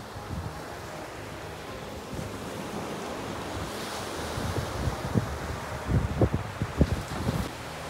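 Sea waves wash onto a shore with a steady broadband rush and wind noise on the microphone, with several louder surges breaking near the end.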